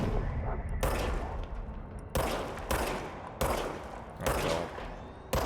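Gunfire in the action game Control comes as four or five sharp, loud shots at irregular intervals, each followed by a short decaying tail, with faint murmuring between them.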